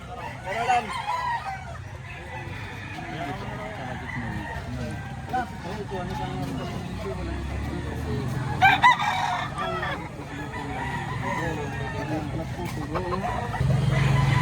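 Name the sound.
Sweater bloodline gamecock crowing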